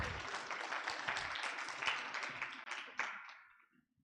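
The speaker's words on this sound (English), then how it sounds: "just a round of applause for him" Round of applause from an audience at a white coat ceremony, a dense burst of many clapping hands that swells and then tapers away over a few seconds.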